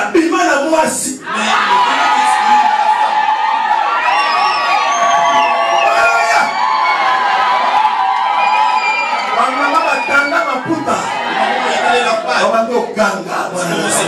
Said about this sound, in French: C'est des cris de joie.